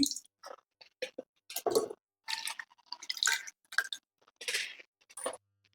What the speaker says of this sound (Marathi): आता सगळा अशा आपण जाळीवरती टाकून घ्यायचा आहे नितळण्यासाठी